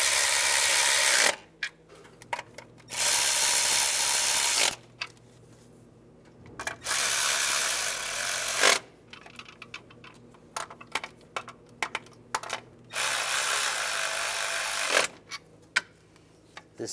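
A power tool tightening valve cover bolts on a 2007-2013 Chevrolet Silverado 1500, four loud buzzing bursts of about two seconds each, separated by quiet stretches of light clicks and rattles.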